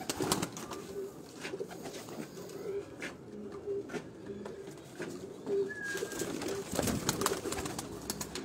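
Pigeons coo steadily in a rooftop cage in Lahore, soft repeated throaty calls with occasional wing flutters and scattered outdoor background noise.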